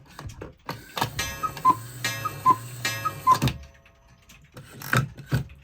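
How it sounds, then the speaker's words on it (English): A cuckoo clock ticking up close with a steady, even tick-tock rhythm over a low mechanical hum, which then cuts out and leaves a few scattered clicks. "Then we have my cuckoo clock."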